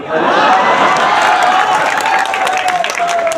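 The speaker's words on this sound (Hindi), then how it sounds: "और ये नौजवान हमारे ताली बजा रहे हैं देश के भले।" A crowd of young listeners claps steadily at an all-India kavi sammelan poetry gathering on the Mela Maidan in Lakhimpur. The applause is loud, continuous and close for a few seconds, with a voice faintly carrying over it.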